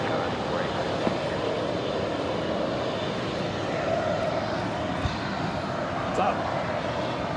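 A 27-year-old MD-11 at LAX gives off a steady, moderately distant engine drone throughout, with a brief voice heard near the start.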